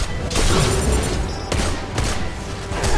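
Fuel explosions in the video game Destiny 2 go off as loud, booming blasts: several heavy bursts a second or so apart over a continuous rumbling din of combat.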